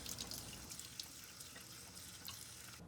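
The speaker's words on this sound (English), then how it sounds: "To clean the filter, run it under warm water and gently scrub with a soft brush." Warm tap water runs steadily over a removed LG dishwasher filter assembly in a sink, a close, continuous splashing hiss with small drips and rinsing sounds.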